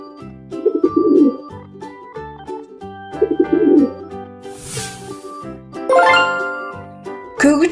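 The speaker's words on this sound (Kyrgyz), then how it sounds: "Көгүчкөн." A cartoon pigeon coos in a children's animated animal-names lesson, soft repeated cooing calls set against bright chiming, tinkling music that rises and pauses in short phrases.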